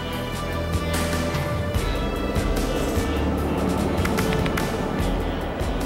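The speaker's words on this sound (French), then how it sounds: "Le bombardier, un CL-415, prend la direction d'un petit lac situé à quelques kilomètres du feu" A CL-415 water bomber flies toward a small lake near a wildfire at cruising speed, its steady broadband engine and propeller roar continuous and fairly loud throughout, with no voices over it.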